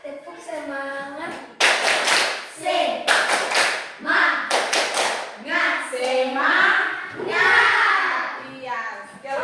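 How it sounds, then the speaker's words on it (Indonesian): Classroom students do a rhythmic spirit clap called tepuk semangat, with sharp bursts of group clapping in patterned beats between sung or chanted voices of children, led by a classmate. "kita tepuk semangat dulu"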